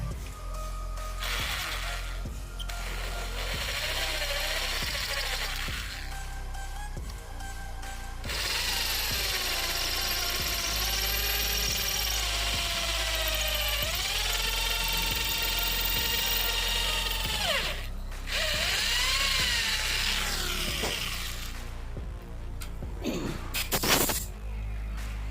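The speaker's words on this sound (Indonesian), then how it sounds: "selanjutnya kita bor menggunakan mata bor 4 mili untuk membuat drat M6 nanti" Power drill with a 4 mm bit bores a hole for an M6 thread, a high whine running in several sustained bursts with short pauses, pitch dipping under load, then clattering handling sounds at the end.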